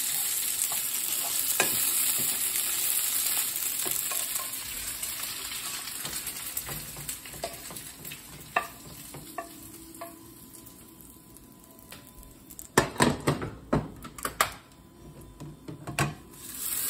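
Pelmeni dumplings fry in a pan with a steady crackling sizzle, broken by the scrape and clatter of stirring that grows louder and busier toward the end.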